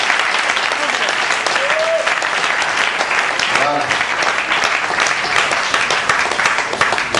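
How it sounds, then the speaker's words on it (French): Congregation applauding at a church retreat in Pointe-Noire: dense, loud, sustained clapping from a large crowd, with brief voices and a short cry rising over it. "Applaudissons pour le Seigneur."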